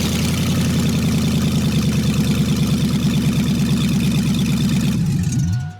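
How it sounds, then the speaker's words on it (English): A truck engine running on straight headers with no exhaust rumbles loud and rough with a choppy, uneven idle, then cuts off near the end, leaving brief quiet. "I'm gonna do a straight header start, no exhaust."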